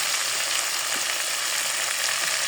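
Spices and Kashmiri chilli fry in hot oil, giving a dense, even, close crackling sizzle that holds steady without a break.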